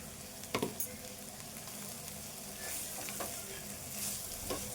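Prawns frying in a pan with salt and chili powder, a steady close sizzle with a few sharp stirring scrapes near the start and soft spatula clicks later, no voices.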